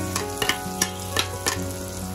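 Onions fry in a pan of chicken fried rice with a steady sizzle and a low hum, broken by about five brisk scraping stirs of a spatula.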